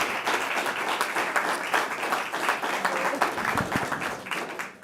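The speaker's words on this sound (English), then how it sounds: "that deserves a round of applause" A school board meeting audience applauds the girls basketball team with sustained, fairly dense clapping from many hands, while a few voices murmur faintly underneath.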